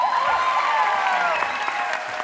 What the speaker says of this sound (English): now get ready to cheer really hard